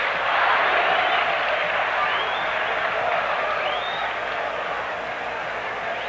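A packed football stadium crowd at a 1991 São Paulo versus Botafogo Brazilian championship match roars in a broad, sustained wash of cheering, with a commentator talking over it.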